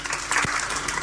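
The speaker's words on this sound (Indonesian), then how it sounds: "Tepuk tangan untuk kebenaran ini" A church congregation applauds during a sermon, a short, dense burst of clapping from many hands close by, steady and fairly loud throughout.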